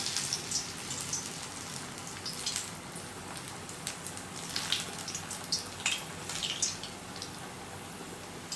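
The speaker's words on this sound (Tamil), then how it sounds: "நல்லா சூடான எண்ணெயில் போட்டு பொரிச்சு எடுத்துடலாம்." Potato and onion pakoda frying in hot oil, a steady soft sizzle with scattered light crackles and pops throughout and no talking.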